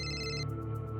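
A telephone rings loudly in an indoor scene: a steady electronic ring that changes tone partway through, with no talk.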